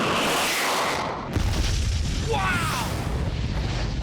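A compact rocket sled fires in a MythBusters-style test, a loud sustained broadband roar and burst that jumps in strength midway as a second stage kicks in, with a brief exclamation over it.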